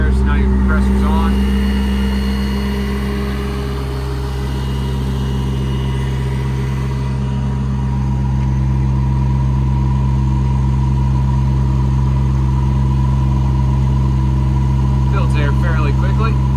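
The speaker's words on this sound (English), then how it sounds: "Compressor's selected right there, so now your compressor's on." An EnPak air compressor runs on a 2016 International 4400 service truck with a Maintainer crane, giving a steady, loud, low engine drone throughout. Someone talks over it.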